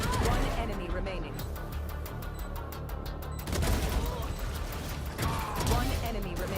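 Rapid gunfire in a competitive Valorant match at a college esports championship, bursts of shots and clicking weapon mechanisms, with a caster's voice talking over the action throughout.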